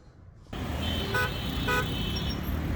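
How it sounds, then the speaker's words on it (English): Busy street traffic in Cairo with constant engine rumble, and two short car horn toots sounding close over the steady roar of passing vehicles. "There is a constant flow of traffic, and it looks like a game of chicken."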